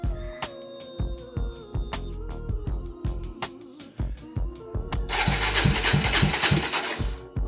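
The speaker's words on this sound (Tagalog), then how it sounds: "Sound check natin yung motor." A 2015 Kawasaki Ninja 250SL with a Yoshimura Alpha exhaust cranks with rhythmic starter pulses, then catches and fires up into a loud, steady, buzzy idle close to the microphone.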